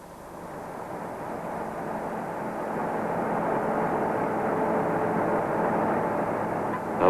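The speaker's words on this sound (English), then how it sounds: "The Porter will lift off and climb to 15 meters altitude" A Pilatus PC-6 Porter aircraft takes off and climbs, its engine drone building steadily from moderate to loud and holding a broad, even roar.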